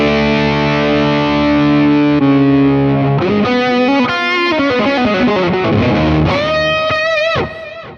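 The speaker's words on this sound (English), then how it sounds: "Let's try with a distorted sound." Distorted electric guitar played through the pitch-shifting block of a Fractal FM3/FM9 modeler, loud and sustained, with held notes and chords giving way to quicker picked phrases and rising bends before a sudden cutoff near the end.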